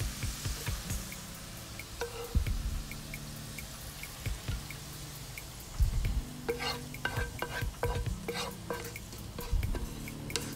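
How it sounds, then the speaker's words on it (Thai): Shallots frying in oil until golden and crisp make a soft bubbling sizzle, with repeated clattering strokes of a spoon or ladle against the pan. "เจียวหอมให้เหลืองให้กรอบ"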